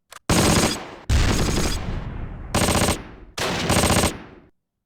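Bursts of automatic gunfire from a WW2 strategy game battle, four loud sustained volleys separated by brief gaps, each ringing off with a short decay, no voices over them.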